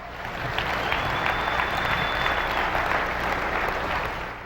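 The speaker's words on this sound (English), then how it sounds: "So again, give him a big round of applause." A keynote speech audience applauds steadily, with dense even clapping filling the room at a constant level throughout, and a thin high tone running over it.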